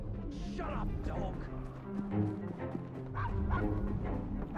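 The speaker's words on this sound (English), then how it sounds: "Shut up, dog!" Dog barking in the video game Assassin's Creed Syndicate, a run of loud close yips and bow-wows mixed with whimpers, overlapping with game voices talking.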